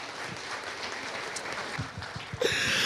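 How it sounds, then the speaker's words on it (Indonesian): Applause breaks out from an audience at a seminar in Jakarta and swells loudly in the final half second, over steady crowd murmur. "bolehlah tepuk tangan sekali lagi untuk Bu Dewi Hesni"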